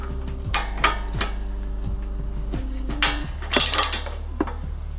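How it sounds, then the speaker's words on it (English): A ratchet turns a socket on a Kawasaki 651V engine of a Snapper Pro SW30 52-inch mower, giving a series of close mechanical clicks and metallic knocks in an irregular rhythm over a steady engine-bay hum. "put your ratchet into the socket"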